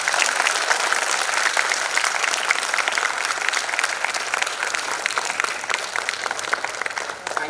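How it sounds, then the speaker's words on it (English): Sustained applause from a symposium audience honoring ISRO scientists for the Chandrayaan-3 launch, dense steady clapping filling the room at full volume from start to finish with no talk. "give a huge round of applause for our fellow scientists at ISRO for the successful launch of Chandrayaan-3"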